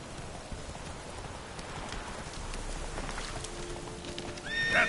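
A horse named Roach ridden in a video game, with hoof clip-clops and a neigh over a steady rain-like hiss, ending in a brief louder whinny, moderately faint.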